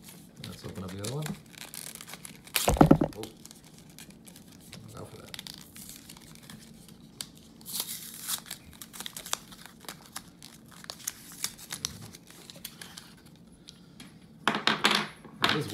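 Paper packaging of IKEA LADDA AA nickel-metal hydride batteries being torn and crinkled open, with sharp bursts of ripping and rustling between quieter handling noises and someone speaking intermittently.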